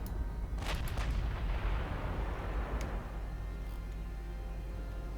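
Heavy battleship guns firing in the naval game Ultimate Admiral Dreadnought, a deep rumbling boom with sharp cracks early on, rolling into a long low roar that fades over several seconds.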